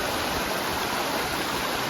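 A waterfall at Mahkali temple pours in a dense, steady rush of water, loud and unbroken, with no voices.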